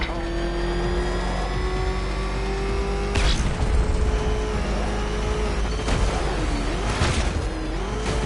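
The Batmobile's engine in Batman: Arkham Knight, a steady loud drone that holds through the clip and shifts pitch as it revs and accelerates, with sharp bursts and a character's voice over it.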